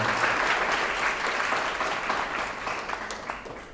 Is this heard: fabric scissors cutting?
no